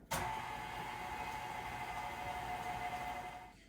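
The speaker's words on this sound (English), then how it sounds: "I'm going to go ahead and turn my stand mixer on and mix it up" A stand mixer whirs steadily while mixing eggnog cookie dough, a faint, even motor hum that starts abruptly and holds for a few seconds before easing off.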